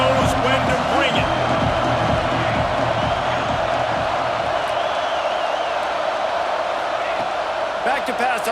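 A stadium crowd at a Wisconsin vs Alabama football game makes a continuous roar with some cheering, heard from a distance under a commentator talking throughout.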